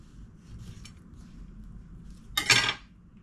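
A knife slices into an avocado to halve it, producing a single short, sharp scraping clatter against a quiet room background, heard up close.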